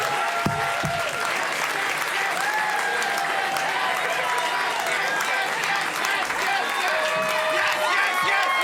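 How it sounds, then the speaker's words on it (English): Applause at the Backyard Comedy Club, a loud, continuous round of clapping from the room with some cheering and a voice talking over it throughout. "Let's start the applause."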